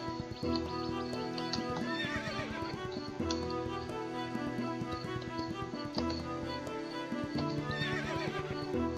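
A horse neighs loudly with long whinnies, hooves clip-clopping underneath and music playing throughout; the horse and hoof sounds are from the video game Thorne Son of Slaves.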